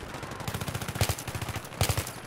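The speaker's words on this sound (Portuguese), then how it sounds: "Vamos no tiro mesmo." Rapid automatic gunfire in the video game Battlefield 3, a fast rhythmic string of sharp shots with louder clustered bursts near the middle and end, close and continuous.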